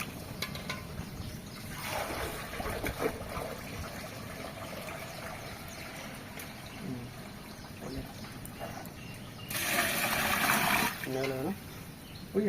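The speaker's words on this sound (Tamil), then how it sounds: "இது போல் ஊத்துறப்ப சைடில் என்ன இருக்குதோ மசாலா அதுவும் சேர்த்து ஊற்றிடும்." Water is poured into vegetable biryani masala in a cooking pot, a brief rushing splash rising near the end over steady kitchen background noise.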